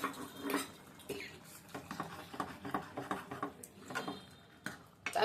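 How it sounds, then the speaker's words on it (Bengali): Ginger being stirred and fried in a pan, with repeated metallic scrapes and clinks of a utensil against the pan in an irregular rhythm, close and fairly loud. "এদিকে দিয়ে দিলাম আদাটা দিয়ে একটু নেড়ে ছেড়ে ভেজে নিই"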